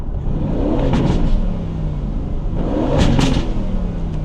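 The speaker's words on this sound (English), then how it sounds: "if I press both paddles at the same time, the car goes into neutral, so you can do this" A car engine in neutral, engaged by pressing both paddle shifters together, revs in two loud bursts that rise and fall around a rumbling idle, close and alone without talk.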